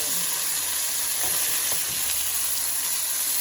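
Chicken thighs for a honey butter glaze sizzle and hiss steadily in a hot pan as they are flipped, with a continuous bright frying crackle and a few soft scraping touches, no talking.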